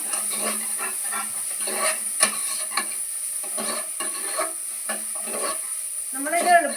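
Repeated scraping strokes of a spoon stirring bitter gourd with chilli powder and turmeric in a pan, with a steady hiss and sizzle underneath, close and fairly loud.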